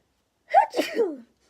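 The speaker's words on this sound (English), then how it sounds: "I have to sneeze." A single sharp human sneeze, close and loud, with a quick intake and a burst that fades within about a second, set against silence.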